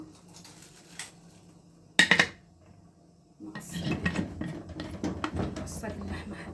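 A pot lid is picked up and set down with a short metallic clatter and a fainter clink before it, while minced meat cooks for stuffed potatoes. Someone talks during the cooking noise that follows.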